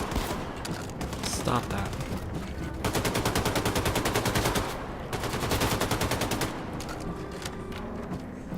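An assault rifle in the video game Wolfenstein: The New Colossus fires two long, rapid automatic bursts over dense, loud game noise, and a voice speaks briefly beforehand.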